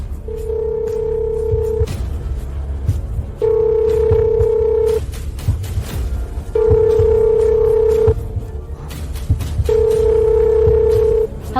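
A telephone ringback tone repeats four times in a steady pattern of roughly one-and-a-half-second tones separated by pauses, loud and steady over a faint background hum.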